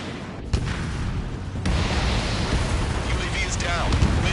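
A missile launches and explodes in the fighter-jet video game Ace Combat 7: Skies Unknown on PS4, with a sharp burst followed by a sustained loud roaring rumble over constant engine noise.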